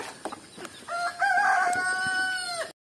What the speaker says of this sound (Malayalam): കോഴികളൊക്കെ വളർത്തുന്നുണ്ട്.